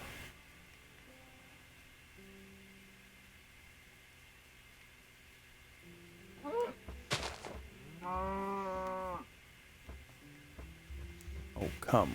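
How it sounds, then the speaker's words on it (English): Minecraft cows stuck in small holes giving several low moos, faint at first and then a louder drawn-out bellow, with blocky game clicks and thuds scattered between them. "Three random cows stuck in little holes."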